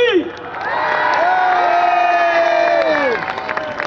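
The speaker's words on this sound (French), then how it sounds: "on les applaudit encore, faites un maximum de bruit" A crowd at the 43rd Fête de la Jeunotte village festival cheers loudly, with sustained whoops and shouted voices rising and falling over a thin layer of clapping.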